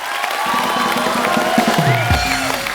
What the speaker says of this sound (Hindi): एक बार जोरदार तालियां हो जाएं, जोरदार।